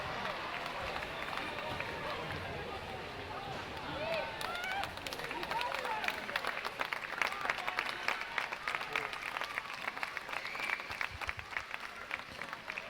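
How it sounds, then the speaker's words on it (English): A crowd at a junior schools' swim carnival cheers and applauds at a race finish, a dense, continuous roar of clapping and voices that builds after the first few seconds, with an announcer talking over it. "A big round of applause for all of our schools as they finish off."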